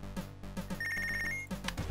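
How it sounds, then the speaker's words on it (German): A telephone rings in the boxing management video game Punch Club, a steady electronic trill over looping game music, with no speech. "Das Telefon."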